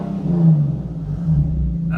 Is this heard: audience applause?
no